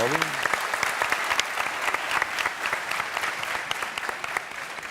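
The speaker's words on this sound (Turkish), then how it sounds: "Hayka'ya büyük bir alkış" A television studio audience on a Turkish talk show breaks into applause, with distinct individual claps standing out within a lively, sustained ovation; a voice is briefly heard at the very start.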